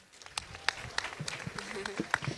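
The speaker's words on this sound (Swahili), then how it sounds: "Wapi makofi ya Monica?" A burst of applause from a crowd, scattered claps rising and falling, with some voices mixed in underneath.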